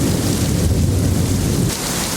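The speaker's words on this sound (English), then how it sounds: "the lightning hasn't stopped and the thunder hasn't stopped at all" A thunderstorm at a lakeside campsite in the Voyageurs National Park and Apostle Islands area, with loud, dense rain pouring down throughout and a deep, continuous rumble of thunder beneath it.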